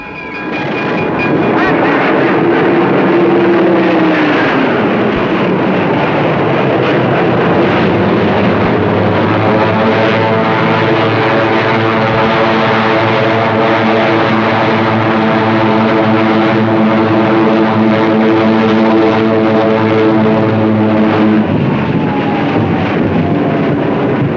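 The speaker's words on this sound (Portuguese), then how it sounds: "5 esquadrões de furacões e Spitfires subiram das pistas e foram ao céu" Hurricane and Spitfire propeller fighter planes of 1940 roar loudly and continuously, their engine drone holding steady with a slowly shifting pitch throughout, with no voices heard.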